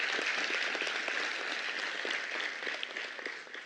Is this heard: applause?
yes